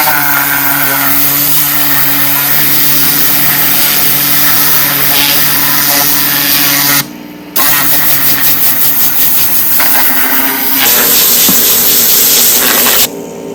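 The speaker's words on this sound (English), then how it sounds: "First step I like to do is I like to blow out all the dirt" An air blower blasts dirt out of a car interior during a detailing job, making a loud, continuous roaring rush that cuts out briefly partway through and then resumes. No one speaks.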